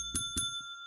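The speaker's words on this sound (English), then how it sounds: "Ring bell" A bell rung in the Minecraft video game, two bright metallic dings in quick succession with a faint trailing tap, clean and close with no talk.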